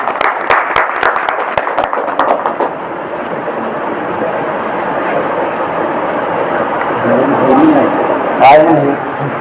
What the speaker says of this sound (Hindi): एक बार प्रभु के दास के लिए जोरदार ताली होना चाहिए।